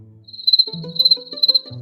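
Crickets chirping in quick pulsed bursts, loud and close, with a low tonal hum underneath and no voices.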